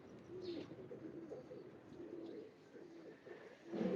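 Pigeons, including a female Kamagar pigeon among crossbred fancy birds, coo steadily in low, soft, rolling calls that repeat throughout, fairly close, with a louder coo near the end.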